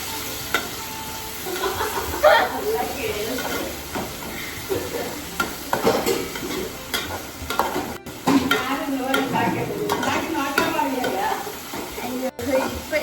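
Chopped onion and tomato sizzle and fry in a pan while being stirred, a steady close hiss with scraping spoon strokes, with voices talking over it now and then.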